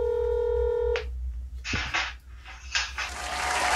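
Phone tones from a call being placed: a steady tone, then short clicking handling noises and brief bursts of sound, close and moderately quiet.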